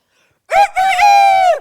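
A voice imitates a rooster crowing during a storytelling show: a short, loud, close cock-a-doodle-doo call with a brief opening note followed by a long drawn-out tone.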